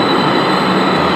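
A Kolkata metro train runs close by with a loud, dense, continuous rumble and a high metallic whine from wheels on rail, steady for the whole moment, no talking.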